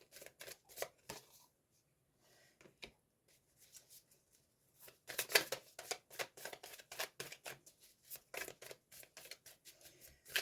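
Tarot cards shuffled for a reading, quick crisp riffling and flicking close by, with a quiet pause early on and then a denser run of rapid card snaps, no talk over it.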